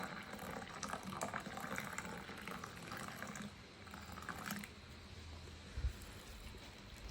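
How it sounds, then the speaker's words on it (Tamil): Freshly boiled hot water poured over butterfly pea and hibiscus flowers, a steady soft splashing trickle that is faint and close, with no talking. "இதில் வந்து நல்லா கொதித்த நீரை எடுக்கணும் சூடோடு. இதுக்கு மேலே நீங்கள் ஊற்றுறீங்க."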